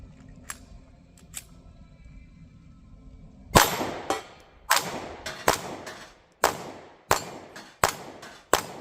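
Smith & Wesson CSX Micro 9mm pistol firing at a range, a string of about nine sharp, loud reports at fairly even intervals of under a second, preceded by a few faint clicks and low rumble.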